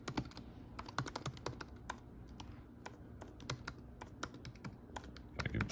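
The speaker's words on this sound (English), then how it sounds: "I can type." Quiet, steady computer keyboard typing, with a rapid run of close key clicks that continues throughout and no speech.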